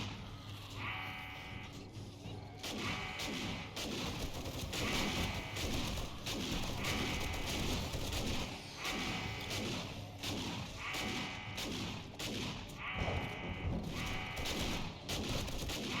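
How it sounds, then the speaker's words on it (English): An automatic shotgun firing in 7 Days to Die during a Blood Moon horde attack, repeated rapid blasts in bursts mixed with zombie groans and thuds, no talk. "the fully tricked out automatic shotgun, which is just deadly"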